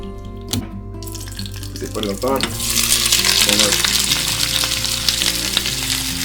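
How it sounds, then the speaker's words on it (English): Onions frying in olive oil for a Spanish potato tortilla: after a short clatter and a few stirs, a loud, dense crackling sizzle of popping oil fills the pan, with a low hum and tonal background underneath. "where the olive oil starts to hop and pop"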